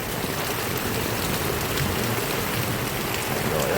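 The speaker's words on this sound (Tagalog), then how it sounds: "Uso na po yung mga tumutulong alulod." Water pours and drips from a leaking rain gutter after a strong rain shower, a steady close spattering patter with no voices over it.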